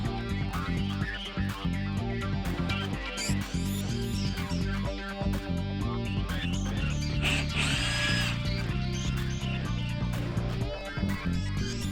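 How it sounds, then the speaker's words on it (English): Bolts are driven into rivet nuts while installing a Harley-Davidson amplifier, heard as a loud whirring power driver in repeated bursts with ratcheting mechanical clatter, close and busy throughout. "I screwed the bolts right into the rib nuts"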